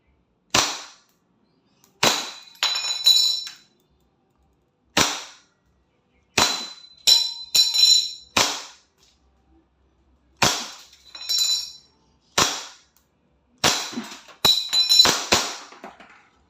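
An EMG Pit Viper airsoft pistol fires a series of sharp, loud snapping shots, singly and in quick doubles and triples with pauses between, alone without talk.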